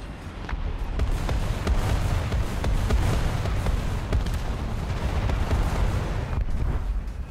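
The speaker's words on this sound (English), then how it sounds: "Ignore the orange smoke of artillery." Artillery fire in the War Thunder video game, with a steady roar of distant booms and crackling blasts that continues throughout, punctuated by sharper impacts.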